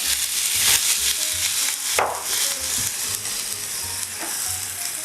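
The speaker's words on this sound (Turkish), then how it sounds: "Şimdi son olarak bunun suyunu vereceğim." Onions and rice fry in a pan with a continuous close sizzle. Water is poured in partway through, and the sizzle flares with a sharp hiss and spatter before settling back to a bubbling fry.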